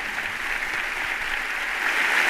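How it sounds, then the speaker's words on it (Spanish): Audience applause in a university great hall, dense continuous clapping from a large crowd that swells slightly toward the end, with no speech over it. "Un fuerte aplauso a los 4 jóvenes de Palestina que se encuentran en la primera fila del aula magna."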